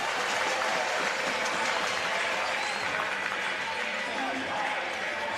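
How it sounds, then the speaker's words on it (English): At a Frankston youth league football grand final, the crowd keeps up a steady roar of cheering and applause. It sounds distant and washed out, and a commentator talks over it. "this Frankston crowd are not going to stop until the final siren sounds"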